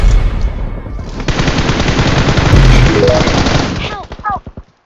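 Rapid automatic gunfire in the BGMI battle royale during a final zone fight, a dense, loud continuous burst of shots that breaks into a few separate cracks and echoing pings at the end.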